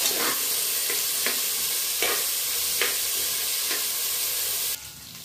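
Chickpeas with dried and green chillies fry loudly in a pan, a dense constant sizzle punctuated by repeated scraping stirs, dropping slightly in level at the end.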